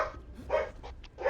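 Dogs barking in Assassin's Creed III Remastered, a few short sharp barks in quick succession at moderate distance over a low rumbling game ambience.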